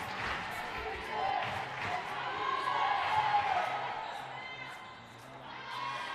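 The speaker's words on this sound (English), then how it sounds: "You can hear that clap from a mile away." Crowd at a U18 girls' state championship gold medal basketball game claps in a rhythmic defense chant, with the beats carrying over a dense arena roar while a commentator talks throughout.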